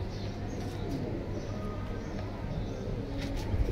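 Pigeons in a collection kept for sale coo softly and continuously, low rolling calls with faint chirps over a dense background murmur that includes distant voices.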